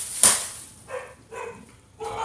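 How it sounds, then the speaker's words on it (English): A pet dog, a three-year-old female puppy, gives one sharp close bark in a room, followed by a few softer yips or whines with short gaps between them. "And that's my dog."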